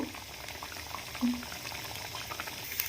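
Potato pieces fry in hot oil with a soft, continuous sizzle and faint bubbling crackle, steady and fairly quiet throughout.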